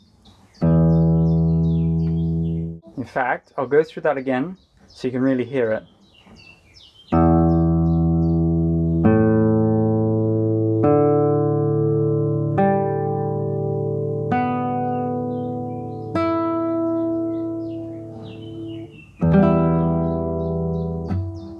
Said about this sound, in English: so that is the guitar in standard tuning